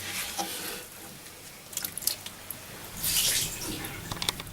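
A sponge soaks up and squeezes out the last water from the bottom of a toilet cistern, giving wet squelches, drips and splashy trickles in short bursts, fairly close.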